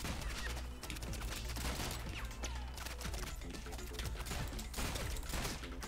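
Airstrike bullets from a modded game of Rounds rain down in a dense, continuous barrage of rapid gunfire bursts and crashes that sits busy and loud throughout, with faint voices underneath.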